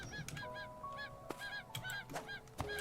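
Repeated honking squawks from a chicken in the game Craftopia, a quick series of loud close calls over steady low game ambience.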